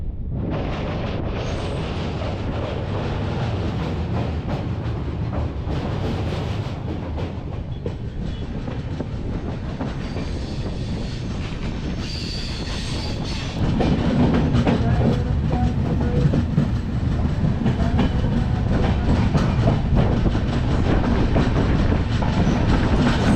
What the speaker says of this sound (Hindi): अगर मैं अमृतसर से दिल्ली की बात करूं तो ये ट्रेन टॉप 10 ट्रेन में से एक आती है